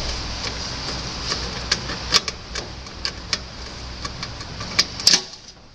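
A screwdriver turns screws counterclockwise to remove them from a CD drive on a workbench, giving a close series of irregular sharp clicks and ticks over a steady background hiss, with no talking.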